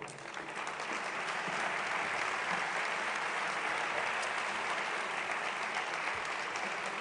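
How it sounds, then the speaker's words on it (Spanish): Sustained, dense applause from an audience at an award ceremony for a teamwork prize, steady and full for the whole stretch without speech. "Un fuerte aplauso"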